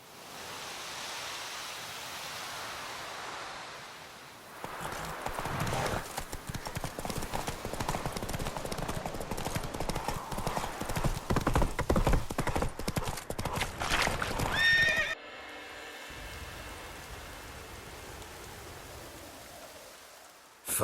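Horse hooves pound in a fast, steady gallop during a race in The Witcher 3 video game, loud and continuous, with a brief neigh-like cry and a noisy rush underneath before the pace cuts off near the end.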